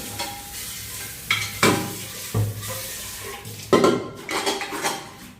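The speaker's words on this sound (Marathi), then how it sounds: "कुकर घासून घेते पहिली" A pressure cooker is scrubbed by hand, producing close, intermittent metallic clanks and knocks with scraping and rubbing in between, irregular in rhythm and without any talking.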